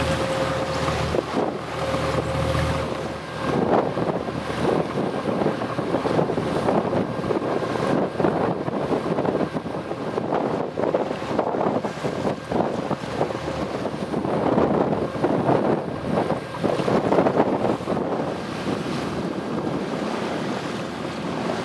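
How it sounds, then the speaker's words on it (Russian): Strong, steady wind roars across an SSP-82 sailing yacht travelling on a river with rough waves, a continuous loud rush with water sloshing against the hull and no voices. "Ветерок охренеть."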